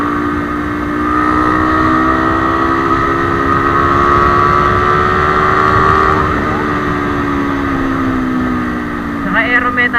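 A Honda CB150R motorcycle rides on the road with a steady, loud engine drone close to the microphone. Its pitch rises slightly and then falls, ending with a brief burst of sharper noise.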